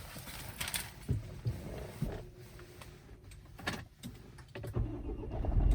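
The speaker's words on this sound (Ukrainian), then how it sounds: "заводиться гарно, з півоберта." A 2011 Renault Koleos with a 2.0 diesel engine and manual gearbox starts. A brief crank is followed by the engine catching, and a moderate idle rumble builds and grows louder toward the end.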